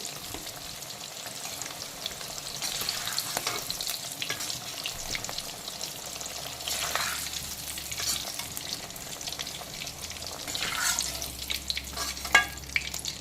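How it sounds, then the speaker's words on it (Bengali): Nigella seeds and a bay leaf tempering in hot oil left from frying parshe fish and green banana, giving a continuous close crackling sizzle with brief bursts of spatter and stirring. "তো পার্শে মাছ আর কাঁচকলা ভাজার তেলে দিয়ে দিচ্ছি কালো জিরে আর তেজপাতা ফোড়ন"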